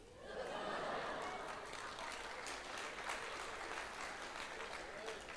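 Congregation at a church sermon bursts into clapping, a quick rise into a fairly quiet, steady wash of many hands that holds for several seconds, with faint laughter mixed in.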